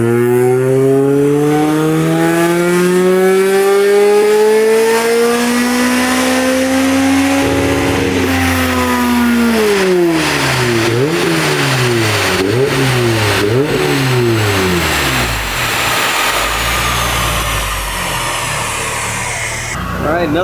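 A Toyota Matrix XRS with a full bolt-on 2ZZ-GE engine revving on a dyno: a loud, close, steadily climbing pull to high revs, then the pitch wavers and falls off as the run ends.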